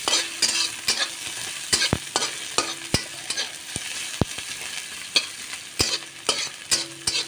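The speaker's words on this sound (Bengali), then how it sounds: "পেঁয়াজগুলোকে একটু ভেজে নিচ্ছি।" Onions frying in a pan for a fish-tail mash dish, a steady sizzle with repeated sharp clinks and scrapes of a utensil stirring against the pan, close and alone without talk.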